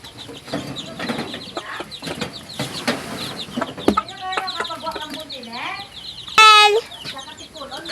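Newly arrived chickens cluck and squawk as they are fed, several close calls and a sharp loud cry near the end, with a person speaking over the first few seconds.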